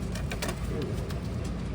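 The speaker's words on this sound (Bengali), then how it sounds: "নতুন এক জোড়া ম্যাড্রাস পায়রা নিয়ে এসেছি।" Soft, low cooing from a pair of Madras pigeons murmurs steadily in the background, with a few faint chirps and rustles over a constant hum.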